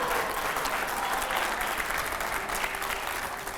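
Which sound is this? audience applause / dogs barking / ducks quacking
audience applause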